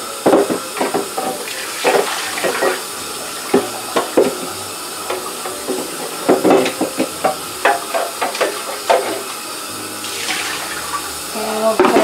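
Tap water runs and splashes while a kitchen blender jar is rinsed out, a steady close hiss broken by repeated sloshing bursts and clunks of the container, with speech mixed in at times.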